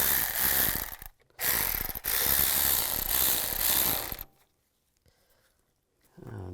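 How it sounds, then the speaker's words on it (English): A ratchet tightens hose clamps on a 2002-2009 Chevy Trailblazer upper radiator hose, giving loud, rapid clicking in two bursts with a brief pause between them, then near silence and a final short burst. "And tighten down the clamps."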